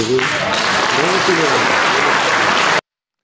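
Dense, loud applause fills the Ukrainian parliament chamber for about three seconds, with voices talking over the clapping before it cuts off abruptly.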